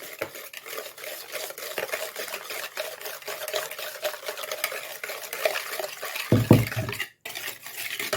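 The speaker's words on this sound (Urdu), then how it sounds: "یہ ہم نے پھینٹ لیے دہی ڈال کے" Yogurt being whisked in a bowl for tea cake batter, a steady rapid scraping and tapping of the whisk that runs continuously and close up, with no talking.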